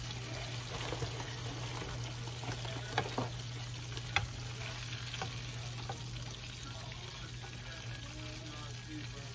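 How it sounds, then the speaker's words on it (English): Chicken frying in hot grease at home, a continuous crackling sizzle with scattered sharp pops and a low steady hum underneath. "Real slow, don't drop it like that grease don't pop on the line."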